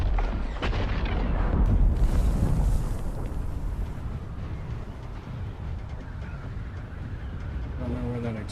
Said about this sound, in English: don't know where that explosion's coming from.